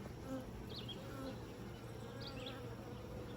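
Honeybees buzzing around an open hive during an inspection, a steady, fairly faint drone of many wings with a few closer bees passing by, no voices.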